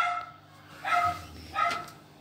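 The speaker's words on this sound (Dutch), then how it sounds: "Jullie horen even mijn hond" A dog barks twice, fairly close, with a short pause between the yelps and quiet background otherwise.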